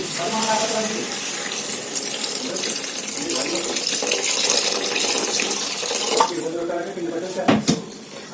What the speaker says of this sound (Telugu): ఇప్పుడు దీనికి తగినంత వాటర్ పోసుకుందామండి